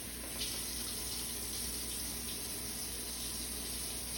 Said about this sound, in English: So to start, turn on the sink.